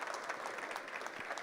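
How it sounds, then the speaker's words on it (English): Conference audience applauding at a New York summit wrap-up, a steady dense wash of many hands clapping throughout, fairly distant and even, with no voices over it. "Look, a big round of applause for Greenie, please."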